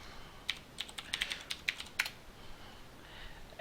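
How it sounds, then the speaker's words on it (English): Typing on a computer keyboard, a quick run of about a dozen close, crisp keystrokes that stops after two seconds, leaving quiet room tone. "And now we type in here VirtualBox."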